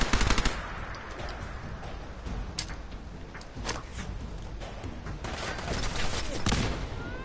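Rapid automatic gunfire from Fallout 4 crackles in dense bursts, with sharp repeated shots clustering near the start and returning in scattered volleys throughout, loud and close.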